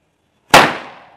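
A single Diwali firecracker bursts in a chain reaction with a sharp, loud bang, followed by a crackling tail of scattering paper that fades over about half a second, with no voices.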